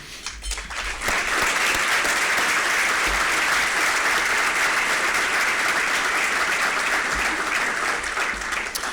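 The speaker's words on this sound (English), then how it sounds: "now you're going to have to applaud again" A roomful of people at a business breakfast applauds for staff of a business journal, dense and loud clapping that swells in after a second and holds steady for the rest.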